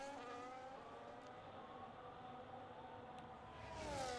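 A chromed McLaren Formula 1 car in a racing video game at the Singapore Grand Prix, its engine whining steadily with rising and falling pitch from gear changes, continuous and moderately loud, with no talk.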